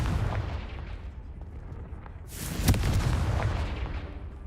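A Confringo blast spell from the video game Hogwarts Legacy goes off as a sharp broadband burst over a steady low rumble, followed by a brief crackling decay.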